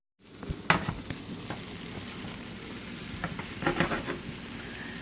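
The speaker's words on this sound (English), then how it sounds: "So we're going to fry these apples up and let them cook for maybe about 4 or 5 minutes" Apples fry in a pan for caramel apple French toast, a steady close sizzle with a few sharp crackles and spatula scrapes, no talking.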